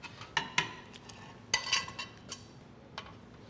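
Shrimp stirred into a pot with beans and leeks, a spoon knocking and scraping against the pot in a few scattered, close clinks over a faint quiet simmer.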